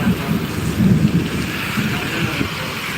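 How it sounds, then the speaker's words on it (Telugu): Heavy rain in Mulkanur hisses steadily while low thunder rumbles underneath, a broad constant wash of sound with no voices. "భారీ వర్షం అంటే భారీ వర్షం పడుతుంది"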